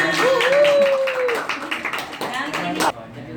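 Guests at a gathering of people living away from home clap their hands in a loose, uneven patter of claps, with a person talking over the clapping.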